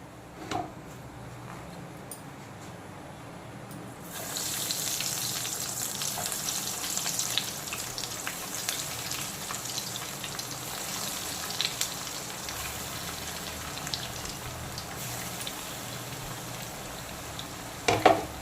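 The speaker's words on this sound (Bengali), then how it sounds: "এখন মিডিয়াম হিটে মাছের চপগুলোকে আমি ভেজে নেব, লইট্টা মাছের চপগুলোকে ভেজে নেব।" Bombay duck (bombil, loitta) fish chops frying in hot oil over medium heat, a steady close sizzle that starts quieter and swells into a dense, continuous crackle after a few seconds, with no talking.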